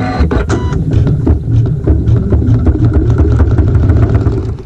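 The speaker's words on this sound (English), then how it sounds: "We sew the seam" A sewing machine runs a seam through quilting fabric for a strip triangle block, a steady close mechanical stitching clatter with fast regular needle beats, heard alone without talk.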